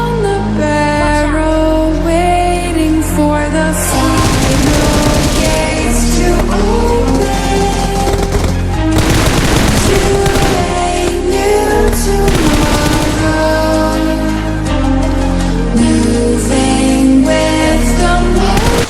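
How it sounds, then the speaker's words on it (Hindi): Rapid, sustained bursts of automatic gunfire in PUBG Mobile on the Erangel map, with loud cracks and zings, dense and continuous over a driving backing track, no talking. "हम लोगों को पीछे से बढ़ती हैं गोलियां"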